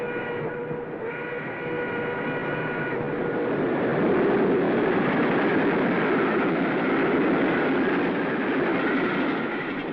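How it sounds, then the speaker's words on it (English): A train whistle sounds at a rural Spanish station in a 1970s film, followed by the building, steady rumble of the train passing close by, loud and sustained. "A train whistle breaks the silence."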